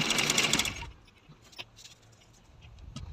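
A sewing machine stitches a blouse neck in a fast whirring burst that stops after about a second, followed by faint clicks and quiet handling of the fabric.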